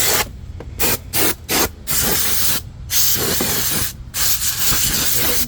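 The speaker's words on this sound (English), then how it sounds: "Spray the bottom here with just a can of compressed air." Several bursts of hissing spray from a compressed air can cleaning a Nissan Altima battery tray, short blasts then longer ones separated by brief pauses, close and loud.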